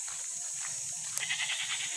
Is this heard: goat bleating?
yes